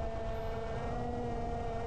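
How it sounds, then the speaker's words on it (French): The small electric motor of an RC FPV flying wing, a Reptile S800, whines with a steady, sustained tone, its pitch holding fairly even as it drones on at a distance. "On entend le régime moteur qui s'adapte."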